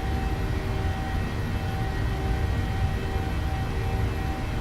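Boeing 737-800 engines at takeoff power in a flight simulator, a loud, steady roar with a high whine running through it, continuous and unbroken.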